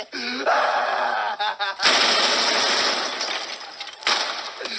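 Loud, rapid gunshots burst out amid shouting voices, with a dense crackling roll and a final sharp report near the end.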